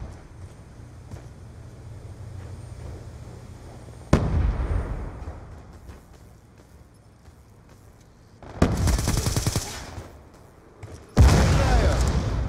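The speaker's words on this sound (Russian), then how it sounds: "Стреляю!" Gunfire in the video game Call of Duty: Black Ops 2 comes as sudden loud blasts and bursts of rapid fire, separated by quieter stretches of rumbling battlefield ambience.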